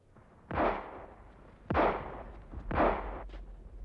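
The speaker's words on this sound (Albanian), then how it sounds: "Krismat po vin nga proj" Three sharp gunshots crack at intervals, each trailing off into a rolling echo, with a fainter pop at the end.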